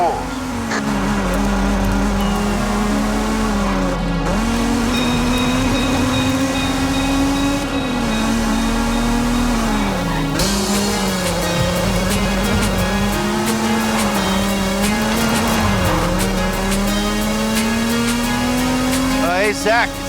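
A Mazda Miata in Forza Horizon 5 drives through spooky woods at the base of La Grande volcano, its engine droning steadily and rising and falling with gear changes for the whole stretch, close and loud, with people talking over it.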